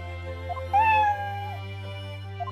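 Eve the cat from the video game Professor Layton vs Phoenix Wright gives a single clear, drawn-out meow with a rising then falling pitch, close and distinct over a steady low background hum.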